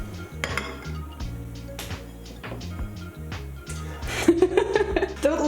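Eggs are whisked in a bowl for omurice, with rapid clinking of utensil against the dish over a low background hum, growing busier and louder toward the end.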